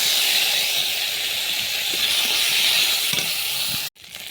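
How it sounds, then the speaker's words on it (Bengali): Cumin seeds and dried red chilies sizzle in hot oil in a kadai, a loud, steady, close hiss with no talk that cuts off abruptly near the end. "এবার জিরে, শুকনো লঙ্কা ফোড়ন দিয়ে দেবো"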